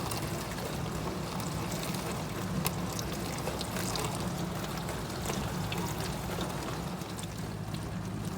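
Water sprays and rushes steadily inside a GE dishwasher running its wash cycle with the door open, a continuous close, broadband hiss and splash with no voices.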